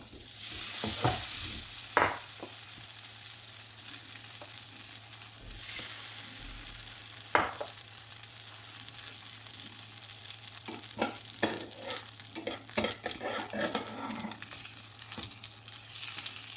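Bread dipped in butter fries in a pan toward golden brown, giving a soft, quiet sizzle with scattered crackles and a few distinct clicks and scrapes.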